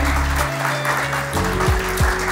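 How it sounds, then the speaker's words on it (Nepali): An audience at a school farewell ceremony claps steadily for a student being honoured. The applause is fairly close and continuous, with a low tonal hum underneath and no talk over it. "कृपया सबैजना जोरदार तालीले साथ दिनु होला।"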